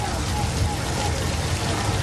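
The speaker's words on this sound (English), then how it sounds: "I'm pretty sure it is not supposed to rain like this while the sun is shining." Heavy simulated flash-flood rain pours down on a Hollywood studio backlot tour, a dense, even roar that fills the scene without a break.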